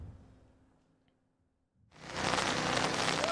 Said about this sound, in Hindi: अचानक कराची शहर में जो है वो तेज़ बारिश का सिलसिला दोबारा शुरू हो गया है